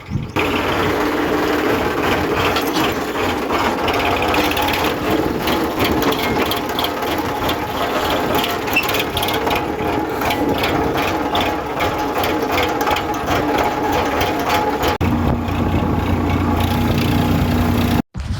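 A Sonalika four-wheel power truck engine runs steadily and loudly at close range, a continuous mechanical drone with fast rattling ticks. It holds nearly constant throughout, then cuts off abruptly right at the end.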